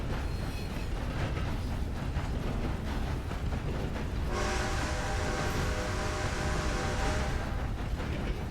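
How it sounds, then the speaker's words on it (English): Train horn sounding over a loud rumbling train, a sustained tonal blast entering midway and holding for several seconds above the constant rail noise, close and loud with no talking. "you can't ring the bell and honk the horn at the same time"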